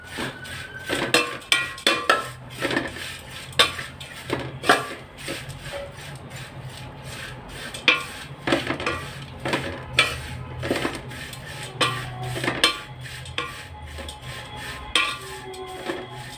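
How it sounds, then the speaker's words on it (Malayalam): A metal utensil scrapes and clinks against a pan in an irregular rhythm, roasting dry flattened rice, close up with no talking. "അവിൽ നന്നായി ഒന്ന് വറുത്തെടുക്കാം നമുക്ക്"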